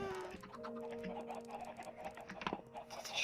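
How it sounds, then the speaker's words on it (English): Minecraft chickens sitting on hoppers cluck in soft, repeated calls over a steady background hum, with a brief louder burst near the end. "It's just chickens on top of a lot of hoppers"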